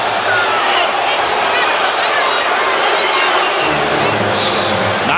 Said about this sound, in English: Crowd reacting.